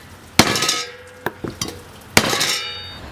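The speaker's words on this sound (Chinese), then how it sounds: "这个太长了，我要把它砍成2截，然后再下锅" A cleaver chopping a beef bone in two for clear-broth beef noodle soup: about five sharp, hard strikes land on a board, two heavy and ringing with three lighter taps between them, close and loud with short pauses and no talk.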